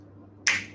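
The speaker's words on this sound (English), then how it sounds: "That will happen when I snap my fingers." A single crisp finger snap lands near the end, close and clear, and its ring trails off briefly over a quiet low hum, with no voice.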